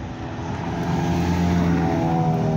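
Engines of arriving cars at an evening car meet outside the Lock Keeper Inn in Worksop, a steady droning rumble that swells louder as a vehicle, such as a Nissan Skyline or Subaru WRX, draws near.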